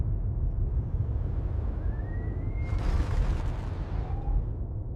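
A capital ship blows apart in a sci-fi battle: a low rumbling bed builds, then a loud, broad explosive burst erupts near the middle and slowly decays, with a faint whooshing streak before it.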